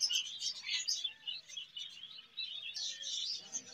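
Ring-necked parakeets at a Sunday bird market chirping in quick, high, bright bursts, fairly close and quiet, with no talk.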